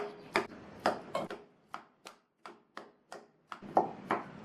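Boiled, peeled plantain is mashed coarsely with a ladle in a vessel, giving about a dozen distinct soft thuds and knocks in an uneven rhythm, close and clear with no talk.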